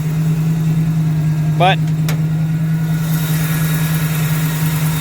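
The rebuilt AMC 304 V8 in a 1979 AMC AMX with a four-speed idles in a steady, low, even drone, close and loud, while someone briefly speaks over it.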